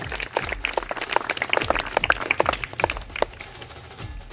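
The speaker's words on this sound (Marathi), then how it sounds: "या कार्यक्रमासाठी आपल्या शाळेमध्ये आवर्जून उपस्थित राहिलेल्या सर्व मान्यवरांचे, ग्रामस्थांचे आपण सर्वांनी जोरदार टाळ्या वाजवून स्वागत करायचे" Audience claps to welcome guests and villagers at a village school's graduation ceremony for fourth-grade pupils: dense, brisk applause from many hands, fairly close, thinning out toward the end with no talk over it.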